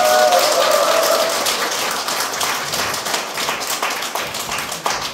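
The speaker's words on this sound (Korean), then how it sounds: "열불을 내주는 김봉선님께 다시 한번 박수 부탁드리고요" An audience at a company lecture breaks into sustained applause, a dense steady patter of many hands clapping that slowly thins out over several seconds.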